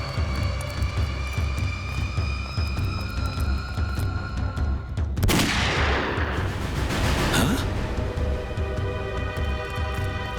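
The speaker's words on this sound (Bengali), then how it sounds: "গুলি চলার শব্দ।" Gunfire effect from a Bengali TV crime drama: a sharp broadband burst of shots hits midway, followed by a second crack a couple of seconds later, both loud over a steady droning background bed.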